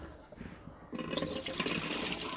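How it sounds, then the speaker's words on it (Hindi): After a brief quiet moment, about one kilogram of water pours into a pot of mutton and potatoes with a steady splashing gush that continues to the end. "1 किलो इसमें पानी डाल दिया।"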